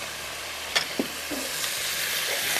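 Chicken with spices fries in a pan for chilli garlic curry, a loud, even sizzle with a few scraping stirs and clinks near the start.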